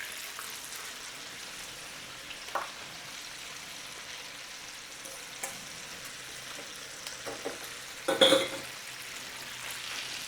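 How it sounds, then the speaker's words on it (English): Korean fried chicken bubbles in hot oil on high heat, a soft continuous sizzle with a few scattered pops and a louder clatter near the end, nearby and without talk. "We'll fry this until you feel it's golden crispy, then we'll lift it out."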